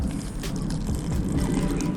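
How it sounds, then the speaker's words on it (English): Water pours steadily into a blender holding gazpacho soup ingredients, a continuous splashing trickle at close range with no talking. "And I'm going to add a touch of water."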